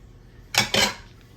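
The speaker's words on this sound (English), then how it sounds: "we're going to stir all this up" Two quick clanks ring out close together as a spoon strikes the side of a cooking pot while ingredients are stirred together for an old-school Sunday meal.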